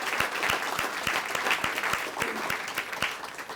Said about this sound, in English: let's give all of our sponsors a huge round of applause